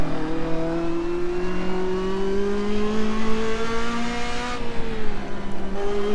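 Race car engine in the Assetto Corsa video game revving steadily at high pitch, a loud sustained drone with rising harmonics and a brief gear-change dip near the end, no voices.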